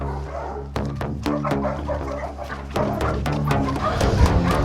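A Presa Canario dog barks repeatedly in short, deep bursts at an uneven rhythm, loud and near, with whimpery yips between some barks and no clear talk.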